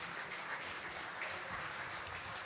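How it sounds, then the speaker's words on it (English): An audience at a finance conference talk in Italy applauds steadily, a dense, even wash of many hands clapping that continues throughout without a break. "Let's have a round of applause."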